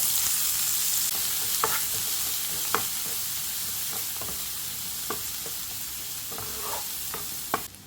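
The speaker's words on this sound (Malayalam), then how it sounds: "ഇനി ഈ ബാക്കി വന്ന എണ്ണയിലോട്ടുണ്ടല്ലോ നമ്മൾ കുറച്ച് കൊച്ചുള്ളി ഞാൻ ചതച്ച് വെച്ചിട്ടുണ്ട്" Crushed shallots sizzle steadily in oil left over from frying sardines, a continuous close hiss punctuated by several sharp clicks and scrapes of stirring, with no talking.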